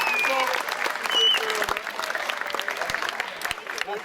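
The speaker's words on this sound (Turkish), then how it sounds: "Alkışlıyoruz." A crowd applauds at a youth football tournament's trophy ceremony, a dense steady patter of clapping with a voice talking over it.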